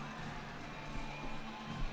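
A hockey arena crowd at a Pee Dee IceCats game cheers and roars in a steady dense wash of voices, fairly faint and continuous throughout.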